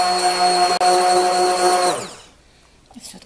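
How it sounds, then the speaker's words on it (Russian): An electric blender whisking crème brûlée mixture, a loud steady whirring motor hum that briefly cuts out, then winds down to silence as it is switched off, with faint kitchen clatter afterward. "Все, отключаем блендер."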